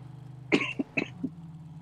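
A few rough coughs and throat-clearing bursts from a man with a slight illness during a Borderlands 3 stream, close to the microphone over a low steady hum.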